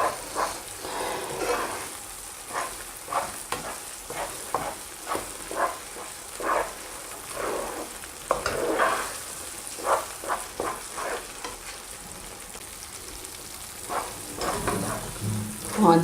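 Spoon scraping and stirring thick barfi made from dry milk in a pan, giving soft irregular sizzling scrapes and taps at close range, fairly quiet, with a few pauses between strokes.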